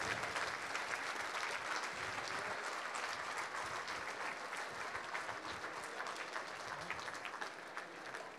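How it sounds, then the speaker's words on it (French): Warm, sustained applause from a large crowd at the opening ceremony of the 2019 WAC world championships, honouring the volunteers, a dense continuous patter of clapping that tapers slightly toward the end. "on peut les applaudir très fort"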